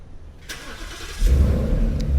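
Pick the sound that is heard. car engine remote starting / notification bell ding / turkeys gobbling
car engine remote starting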